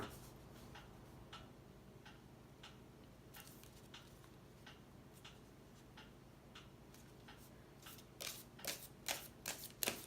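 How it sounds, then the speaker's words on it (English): Oracle cards from a spirit animal guide deck are shuffled by hand, a soft, quiet riffling that builds into a few louder flicking bursts near the end, with no talking. "I'm going to pull an oracle card from this deck."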